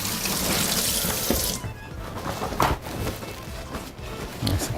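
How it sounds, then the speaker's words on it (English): Running tap water splashes into a sink as hands are rinsed, a steady broadband rush for the first second and a half, then quieter intermittent splashing and handling noises nearby. "Let me rinse my hands off real quick."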